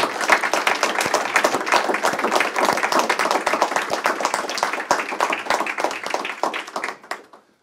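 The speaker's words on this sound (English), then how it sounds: "show your appreciation by clapping our colleagues" An audience at a University of Warsaw lecture applauds warmly, dense clapping from many hands that holds steady for about seven seconds before it quickly fades out.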